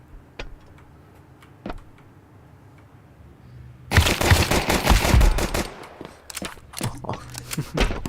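Rapid gunfire in Counter-Strike 2 erupts after a few quiet seconds, with only sparse ticks beforehand. Dense bursts of shots follow, then quicker scattered volleys continue to the end.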